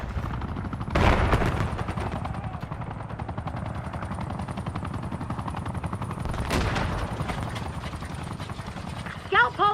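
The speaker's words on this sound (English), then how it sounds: "There's a watchdog helo headed your way." A helicopter drones overhead in a shooter video game, a steady rotor hum under radio chatter, with bursts of gunfire and a couple of sharp impacts.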